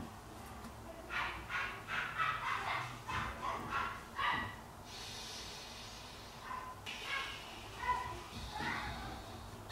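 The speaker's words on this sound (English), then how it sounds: "dog is barking" A household dog barking indoors at home: a string of short, rapid barks and yips, fairly faint and somewhat distant, mixed with a person talking.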